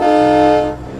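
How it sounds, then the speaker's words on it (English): Loud, sustained train horn blast in American Truck Simulator, a steady multi-tone chord held for most of a second before cutting off into engine rumble. "That train horn is loud as hell"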